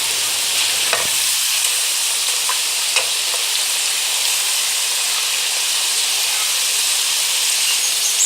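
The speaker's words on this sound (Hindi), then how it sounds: "पकोड़े फ्राई हो रहे हैं।" Potato pakoras fry in oil over medium heat with a loud, constant close-up sizzle and hiss. A few faint clicks come from a utensil, and there is no talking.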